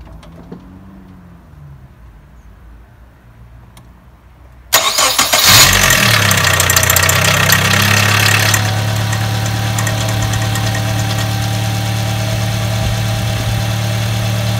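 A Nissan Sunny N14 1.4 LX petrol engine cranks and catches after a quiet stretch, revs briefly, then settles into a loud, steady idle with a rattling chain tensioner.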